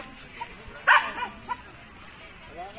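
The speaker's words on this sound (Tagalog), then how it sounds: "may aso" Dog on a farm in Indang, Cavite, giving one loud sharp bark followed by a couple of softer yips, while people talk nearby outdoors.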